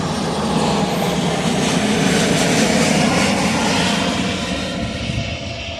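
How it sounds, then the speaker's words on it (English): An airplane passes overhead with a loud, broad roar of engine and rushing air. The noise holds steady for several seconds and then slowly eases, with no voices over it. "There's an airplane right now."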